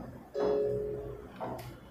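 A Motorola Moto G85 5G plays its charging sound as it is plugged in: a short, soft two-tone chime followed by a fainter second blip, quiet and close.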